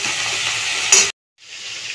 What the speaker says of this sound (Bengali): এবার এটাকে ভালো করে ভাজা ভাজা করে নেব